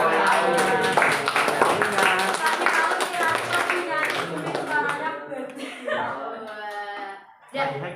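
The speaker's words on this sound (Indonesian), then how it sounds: "Tepuk tangan." Rhythmic hand clapping from a group, loud and steady, mixed with voices talking and calling out over it.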